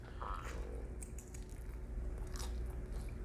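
Someone bites into a crunchy homemade pizza with a charred bottom crust baked in a regular oven, producing a sharp crunch followed by close, quiet chewing, with no speech.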